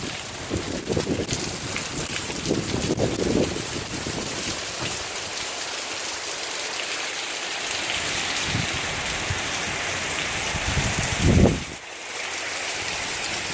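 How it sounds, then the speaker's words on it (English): Hurricane Irma wind and rain in Jacksonville, Florida: a steady roaring wash of rain and blowing wind with a few stronger gusts surging, one sharp blast near the end, no voices. "Huge gusts of wind."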